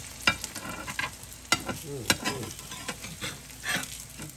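Croissant French toast frying in a pan, with soft sizzling and scraping stir sounds, several sharp clinks and taps from utensils against the pan, close and moderately loud without speech.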